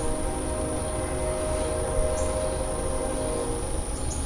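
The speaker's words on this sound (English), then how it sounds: "just imagine the train singing happy birthday to you" A train passing as a steady, continuous rumble and rattle of rail cars with a high whine layered on top, moderately loud, no voices.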